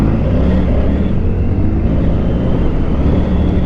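A Triumph Tiger 900 Rally Pro motorcycle rides along corners, its engine a loud, steady droning roar mixed with wind rush and no voices.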